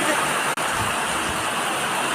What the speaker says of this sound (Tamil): இங்கே பாருங்கள், மழை எப்படி கொட்டுதுன்னு.